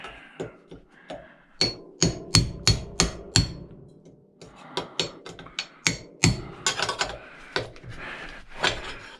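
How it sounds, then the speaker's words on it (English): Hammer blows on cold chisels, about twenty sharp metallic strikes in uneven bursts, close and loud, while metal parts are chipped apart during scrapping. "And my cold chisels."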